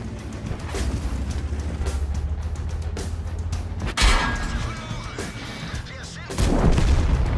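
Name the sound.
artillery fire in World of Tanks video game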